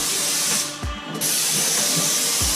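Spraying in quick bursts gives a loud, dense hiss, with a brief pause partway through and soft low thumps repeating underneath.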